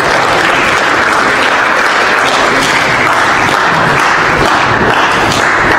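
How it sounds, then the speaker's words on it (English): A youth session audience at a church gathering gives a big round of applause for the priest who spoke, dense steady clapping filling the room at full volume throughout, with no speech over it. "A big clap"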